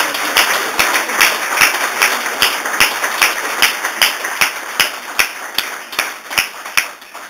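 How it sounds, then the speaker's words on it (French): Regular, steady clapping sounds throughout, sharp evenly spaced claps at a fairly loud level, from an audience at an international forum in Lubumbashi, with no one speaking over it. "de devoir applaudir frénétiquement le président de la République"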